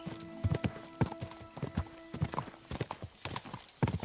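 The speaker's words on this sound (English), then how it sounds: "My horse is faster." Horse hooves clip-clopping in the medieval video game Kingdom Come Deliverance II, quick uneven beats near and clear over a faint sustained background tone.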